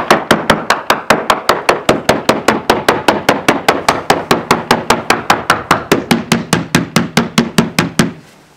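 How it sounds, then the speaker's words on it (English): A hammer taps repeatedly along a boat hull during a core survey, about thirty evenly spaced sharp knocks at a steady brisk rhythm, close and loud, some sounding duller than others. "So this area that has the dull soundings with a hammer"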